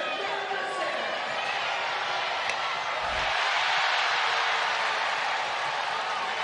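Home crowd at a Western Carolina vs Samford college basketball game reacting with a sustained, broad roar of disapproval to a close call, filling the arena steadily throughout.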